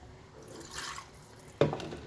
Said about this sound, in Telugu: ఆ జార్లో నేను ఒక 1/2 గ్లాస్ నీళ్ళు పోసుకున్నాను. ఇదిగో ఇందులో పోసేస్తున్నాను